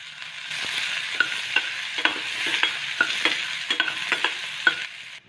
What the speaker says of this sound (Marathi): त्यामध्ये छोटा 1 चम्मच जिरे टाकून घेऊ. जिरं भाजल्यानंतर छोटा 1 कांदा बारीक चिरलेला तो टाकून घेऊ.